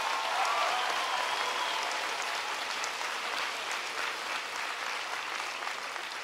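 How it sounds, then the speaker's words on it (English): Audience applause at a political rally, a steady dense wash of many hands clapping that stays loud throughout before easing slightly toward the end. "please give Rick a big round of applause for his introduction."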